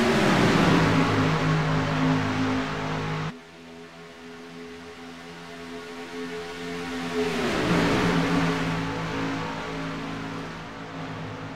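Stock cars racing at Talladega in a video game, a broad steady engine roar that drops sharply partway through, then swells again with a falling pitch sweep as cars pass close by.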